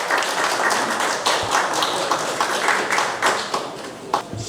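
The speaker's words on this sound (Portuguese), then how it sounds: "Palmas, por favor." Audience applause welcoming a professor to the pulpit at an ethics event, a full, steady wash of clapping with scattered sharper claps, close and fairly loud throughout.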